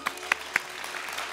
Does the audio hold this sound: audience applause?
yes